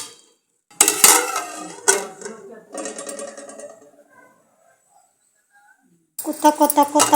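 A spoon scrapes and clinks inside a metal cooking pot of boiling pigeon peas, and then a lid clatters down onto it. Close, loud knocks are broken by pauses, and a person talks over parts of it.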